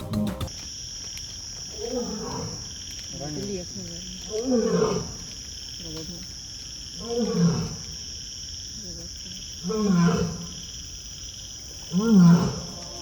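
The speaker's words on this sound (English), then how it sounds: "the lions are all awake and roaring when you're going by them" Lions at a Singapore zoo give a series of deep, rumbling roars, about five swells spaced a couple of seconds apart, loud and fairly near over a steady insect drone.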